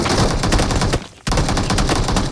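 Rapid automatic gunfire bursts in a PUBG firefight on the Livik map, loud and dense, with a short break near the middle before the shooting resumes.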